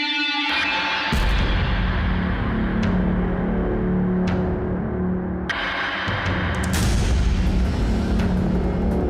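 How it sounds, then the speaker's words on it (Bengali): Loud gunfire in a Bengali crime drama police encounter: several sharp shots ring out over a dense, rumbling background, evenly spread across the scene with a burst near the end. "আরে সাহেব, গুলি চালিও না, আমি সারেন্ডার করছি"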